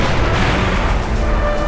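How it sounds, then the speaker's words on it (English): Backline artillery fires in the toy war video game, giving a loud, dense, continuous roar of booms and blasts with no pause across the moment. "Here comes the next backline artillery."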